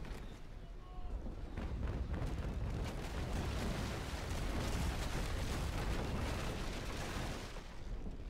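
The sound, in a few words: ship cannon broadside from port guns in Naval Action video game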